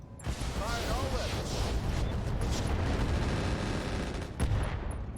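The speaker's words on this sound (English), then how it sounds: "We got an AC-10 ammo explosion there." In the mech combat game RogueTech, an AC-10 autocannon ammo explosion erupts amid sustained gunfire and blasts: a dense, loud barrage of crackling detonations and rumbling impacts with no pause.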